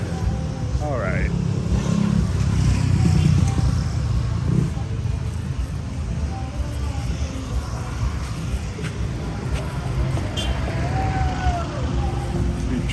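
A vehicle drives along the beach road in Pattaya, a steady engine and traffic rumble continuing throughout with passing road noise, while people talk nearby.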